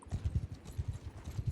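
Horse hooves pound in quick clip-clop rhythm as a single rider gallops in the video game Mount and Blade Bannerlord, the low thuds close, steady and repeating throughout with no talk over them.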